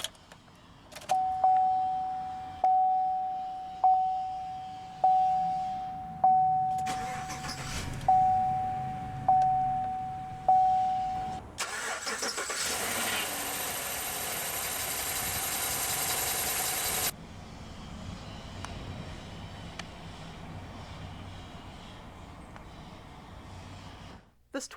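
Inside a 2015 GMC Sierra 1500 crew cab, a repeating chime sounds before the 5.3-liter Ecotec3 V8 cranks and catches with a loud surge, then settles into a steady low idle, with talking throughout.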